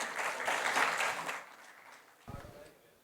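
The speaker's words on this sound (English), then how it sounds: "Can we please have a round of applause for all of them" Conference audience applauds a panel on the future of credit cards: dense clapping for about a second and a half, then fading, with a voice starting underneath.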